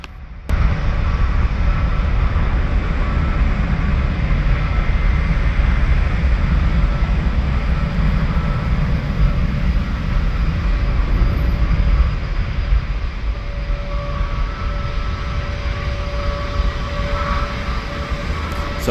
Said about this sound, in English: Here we go on the takeoff roll